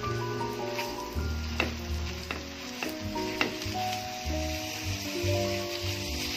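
Chicken mince sizzles and fries with onions in a pan, a steady close hiss broken by repeated scraping stirs and clinks of a utensil throughout.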